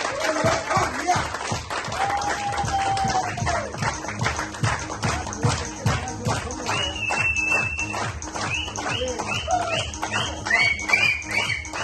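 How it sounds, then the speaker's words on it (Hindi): An audience at a motivational training session claps loudly to welcome a speaker, a dense close patter of many hands mixed with shuffling, a whistle and voices calling out over the applause. "जोरदार तालियों से हम स्वागत करते हैं नन अदर देन जोस मैथ्यू"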